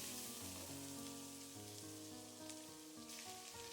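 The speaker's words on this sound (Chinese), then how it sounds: "把切好的蒜子和豆豉倒進來炒出香味" Garlic and fermented black beans stir-fried in a little oil in a wok, giving a soft, steady sizzle under a quiet layer of background music, with no speech.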